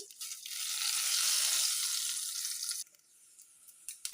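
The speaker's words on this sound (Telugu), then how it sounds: "కొంచెం తాలింపు గింజలు, ఎండుమిర్చి, జీలకర్ర, ఆవాలు వేసి ఒక్కసారి కలుపుదాము" Dried chilli, cumin and mustard seeds sizzle loudly in hot oil as tempering for a dal with greens, a steady bright hiss that suddenly drops away to near quiet.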